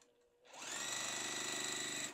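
A sewing machine stitches quilt block pieces together for a rose sampler block, a quiet, even mechanical whir with rapid regular ticking that starts after a brief silence and runs steadily alone.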